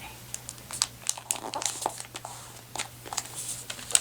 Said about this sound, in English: take this corner and fold it up here